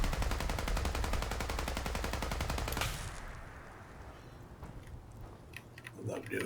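Rapid automatic gunfire from Fallout 4's Far Harbor, shooting enemies launched into the air, rattling loud and dense for about three seconds before cutting off into quieter game ambience with scattered small impacts.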